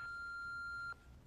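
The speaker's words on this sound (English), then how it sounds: "Do your thing when you hear the beep." A single steady electronic beep from an answering machine, clear and sustained for nearly a second before cutting off into quiet room tone.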